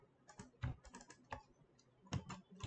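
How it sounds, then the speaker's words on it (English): Computer mouse double-clicked repeatedly while selecting faces in modelling software, giving sharp, close clicks in small clusters with short gaps between them. "double click on it."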